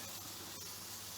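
Homemade pepper bacon sizzles in a hot pan, a faint, steady, close hiss with no talk over it.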